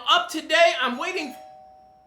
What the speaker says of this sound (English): The doorbell just rang.